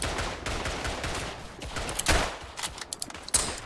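Rapid gunfire crackles through a World War I trench fight in the game Verdun, a dense volley of close, loud shots with a few sharper bangs standing out near the end.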